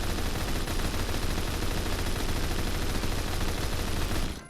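Sustained automatic fire from a 100-round machine gun in the Phantom Forces shooter game, a dense unbroken roar lasting about four seconds before cutting off, loud and close with no talking.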